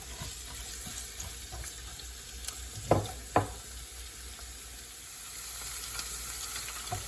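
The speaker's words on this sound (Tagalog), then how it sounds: "Iprituhin ko muna siya." Carrots fry in a pan for igado, a steady broadband sizzle running throughout with two sharp louder pops near the middle, close by and with no talking.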